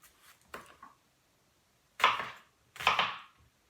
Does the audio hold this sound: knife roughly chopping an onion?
yes